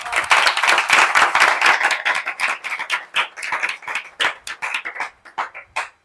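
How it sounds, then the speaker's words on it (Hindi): A congregation claps for a girl during a church sermon, a burst of brisk dense hand-claps that thins into scattered, slowing claps before fading out. "तालियां बजाएं बेटी के लिए।"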